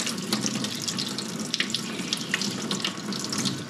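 Warm water runs steadily from a tap at low pressure to rinse a Performance Machine Max HP air cleaner filter, a continuous close hiss and splash with no voices.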